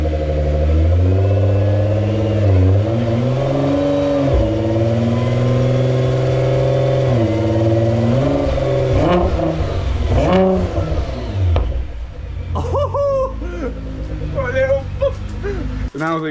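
A rebuilt Nissan GT-R engine revs close by in a series of rising and falling throttle blips over a steady idle, then settles while people talk nearby.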